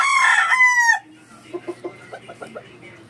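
Young Boston Sweater stag rooster crowing once loudly and up close, followed by a short series of soft clucks; no talk.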